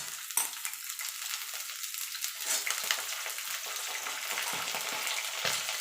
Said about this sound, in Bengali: ডাটাটা দিয়ে মিনিট খানেক একটুখানি নাড়াচাড়া করে নেব।